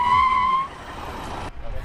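A Mitsubishi Montero Sport brakes hard on concrete. A sharp tire squeal rings out first, then a rough rolling rumble follows and cuts off abruptly near the end.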